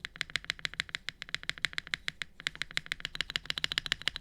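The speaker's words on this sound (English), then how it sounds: "let's see just the spacebar, how much different it sounds with like a Hyacinth" A keyboard spacebar with Hyacinth V2 switches on a Luminkey 65 keyboard is tapped rapidly and evenly, producing a fast run of crisp, close clacks with almost no pause.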